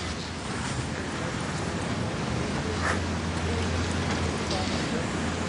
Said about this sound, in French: Il y a un peu de vent, il pleut.